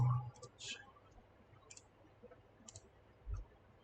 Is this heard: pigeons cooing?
no